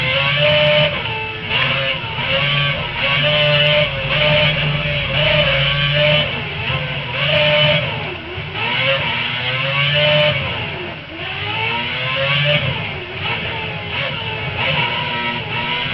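An F1 race car in F1 2011 on PS3 at the New Delhi circuit revs hard in a long, loud series of burnouts, the engine note rising and dipping repeatedly without pause.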